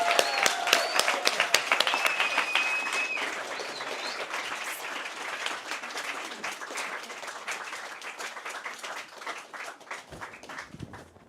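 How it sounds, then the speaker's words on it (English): Enthusiastic crowd applause greets Indradyumna Swami's arrival at a spiritual gathering, starting with sharp individual claps and a few whoops, then settling into a sustained, gradually fading roar. "with the biggest round of applause"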